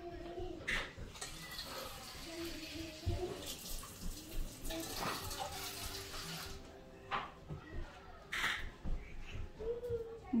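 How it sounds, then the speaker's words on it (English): Hot water pouring into a small bowl in a home kitchen, with a running trickle and splashing that swells and fades in bursts over several seconds, quiet and close, with scattered clinks and small handling noises. "gonna put some hot water in a little bowl"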